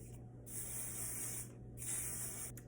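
Eufora Elevate hairspray hisses from an aerosol can onto loose curls in two close, steady sprays of about a second each, with a short pause between them and no talk.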